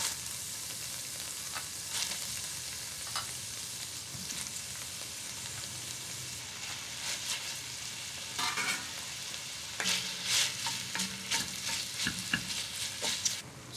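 A batch of steak pieces for homemade chili sizzles and fries in a pan, a constant crackling hiss punctuated by scraping stirs and clattering that grow busier toward the end, with no talking.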